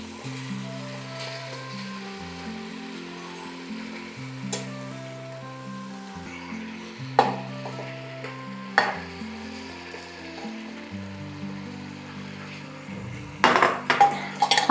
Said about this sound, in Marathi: आता या सर्व भाज्या कुकरमध्ये टाकून घ्यायच्या आणि चांगलं असं परतवून मिक्स करून घ्यायचं